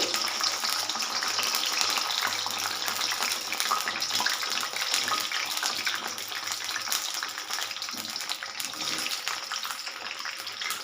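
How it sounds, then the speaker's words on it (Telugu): Okra is fried in hot oil over a low flame for a garlic-chili stir fry, giving a loud, steady, dense sizzle that holds unbroken throughout with no voices. "ఆయిల్లో వేసేస్తున్నాను దోరగా వేయించుకోవాలి"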